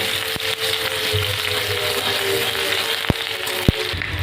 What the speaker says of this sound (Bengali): এবার একটা পেঁয়াজ কুচি দিয়ে দেবো। পেঁয়াজটাকে আমি ভালো করে ভেজে নেব।